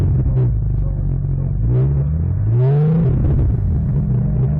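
Race car engine at a 2021 WRL endurance race at Virginia International Raceway revving in bursts, the drivetrain giving no drive; loud, rising and falling revs over a steady low rumble, with faint talk underneath.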